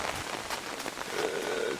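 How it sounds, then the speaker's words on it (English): Heavier rain from a hurricane pours down steadily, a dense continuous hiss of drops striking surfaces close by, with no voices. "It's just starting to rain harder, and I'm not under the umbrella anymore."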